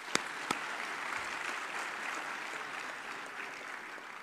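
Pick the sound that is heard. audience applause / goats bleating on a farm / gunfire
audience applause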